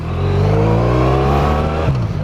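Loud, steady engine drone from a Honda VFR1200X motorcycle on the open road, heard close up and continuous, with the pitch rising slightly as it revs, mixed with wind rush.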